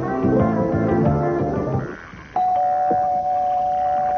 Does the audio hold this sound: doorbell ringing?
yes